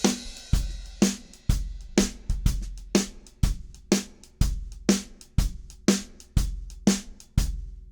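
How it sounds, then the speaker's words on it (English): A shuffle drum groove from the chorus of a song, with punchy kick and snare hits in a steady lilting swung pattern, each hit decaying quickly, played alone with no voices. "The second groove that occurs, which is the chorus, is a shuffle, and that's at a completely different tempo."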